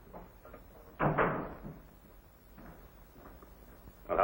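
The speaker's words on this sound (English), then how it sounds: "Shut the door, please." An indoor door shut aboard a 1943 minesweeper, one solid thump with a short rattle, followed by quiet room tone and a second knock-like sound near the end, with no voices.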